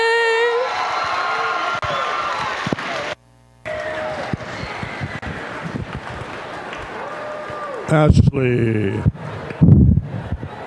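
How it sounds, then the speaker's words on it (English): A school homecoming coronation crowd claps and cheers after the national anthem, with a sung final note at the start, then loud scattered applause and whoops from a nearby audience, and a voice speaks over it. "Another round of applause for Ashley, please"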